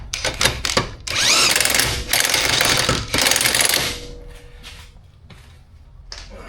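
A power tool rattles in strong loud bursts while tightening a control arm bolt on a Subaru Impreza Outback, several long runs close up, then it trails off into quieter workshop noise.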